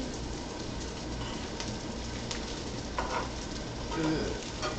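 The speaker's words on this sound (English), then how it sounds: "You can hear it sizzling a little bit" Steady, dense crackling hiss of oil sizzling in a hot frying pan while cooking chicken parmesan, continuous throughout with a few faint clinks.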